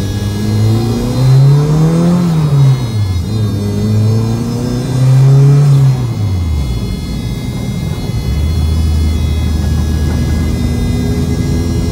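A Honda Brio's engine revs hard and loud up close, climbing and falling in repeated sweeps before settling into a steady, droning idle.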